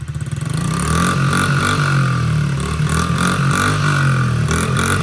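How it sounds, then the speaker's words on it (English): Small Honda CRF50 dirt bike engine revs repeatedly, its buzzing note rising and falling in short bursts over a steady loud idle, close by. "Okay, Tyler, give us some revs."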